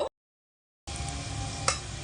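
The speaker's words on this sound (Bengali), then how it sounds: "এখানে আমি দুটো করে দিয়ে ভেজে নেব।" A brief crackle, a second of silence, then a continuous steady sizzle of vegetable rolls frying in hot oil, close by.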